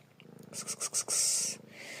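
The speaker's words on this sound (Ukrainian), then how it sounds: "До рук іде, м'явкає, мурчить, не гарчить, як собака бешена." A thin, abandoned cat, freshly washed and brushed, purrs in a soft, steady low rumble close by, with brief scratchy rustling bursts mixed in.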